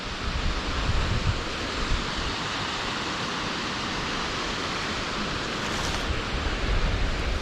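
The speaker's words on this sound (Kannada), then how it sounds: "ನೀರು ಇಲ್ಲಿಂದ ಬೀಳ್ತಾ ಇದೆ ನೋಡಿ" A waterfall on the Charmadi Ghat pours in a steady, dense roar of rushing water. It stays loud and even throughout, with no voices.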